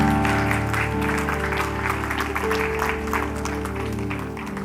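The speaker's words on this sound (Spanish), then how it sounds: "Póngase de pie, denle un aplauso al Señor." Church congregation on its feet clapping together, a steady dense patter sustained throughout with sung or held music tones running underneath.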